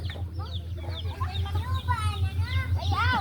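Chickens cluck and chirp near a coop at a Philippine countryside home, a busy, overlapping flock close by with a steady low hum beneath.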